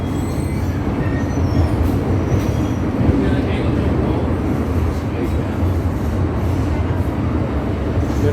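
A Hong Kong MTR train runs at speed with a steady, loud rumble of wheels on rail and a constant roar from the carriage, unbroken for the whole stretch.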